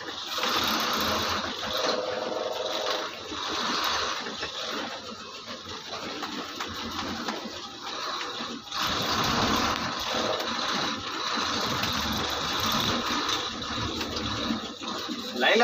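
An Ashok Leyland lorry engine runs with a rough, continuous mid-range drone, fluctuating in loudness and briefly dipping before picking up again, heard fairly close inside the cab.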